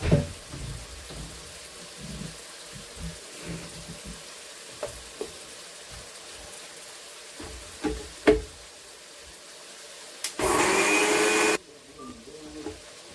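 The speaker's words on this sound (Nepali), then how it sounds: "मसला चाहिँ ग्राइन्ड गरिहाल्नु साथीहरू" Electric grinder whirring through masala spices for homemade chicken achar: one loud, steady grinding burst of about a second, after quieter kitchen clatter and knocks.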